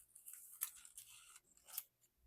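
Scissors snipping through a sheet of transfer paper in a crafting setting, a few quick close cuts in an uneven rhythm, crisp and fairly quiet with no talking.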